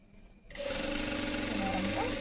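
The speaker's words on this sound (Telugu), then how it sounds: "ఒక స్టిచ్ అయితే ఉక్సులు పట్టి కూడా కంప్లీట్ అయింది తాళ్ళు పట్టి" A sewing machine stitches a hook strip onto a blouse. After a brief quiet start, it runs at a steady, fast, even whir close by.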